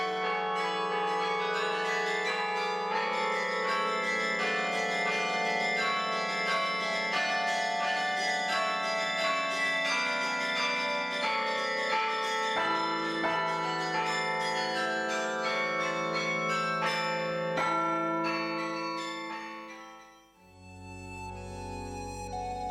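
A 61-bell carillon in Hondschoote, France, plays a continuous melody of struck bells with rich ringing overtones, loud and sustained, until the sound fades near the end.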